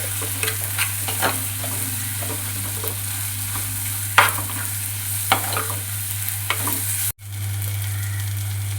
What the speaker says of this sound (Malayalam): ഉള്ളിയെല്ലാം വാടിയിട്ടുണ്ട് അരപ്പൂടെ ചേർത്ത് കൊടുക്കാം